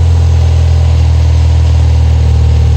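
An engine idles steadily at around 2,000 rpm, a loud, even, low rumble with a smooth continuous drone and no talking over it.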